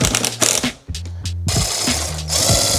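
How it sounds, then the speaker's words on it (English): A screw is driven into wood with a power driver during blindfolded woodworking: short whirring motor bursts that rise in pitch and stop, with brief pauses and clicks between them, up close. "I'm screwing into a screw, aren't I?"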